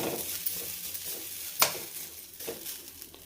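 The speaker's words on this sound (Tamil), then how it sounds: "அடுத்து தேங்காய் வறுத்துக்கலாங்க" Coconut dry-roasting in a pan is stirred with soft scraping and rustling, quiet and close, with one sharp metallic clink midway, no voices.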